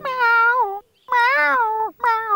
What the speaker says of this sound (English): How are you doing in there, Jess? Meow. Meow.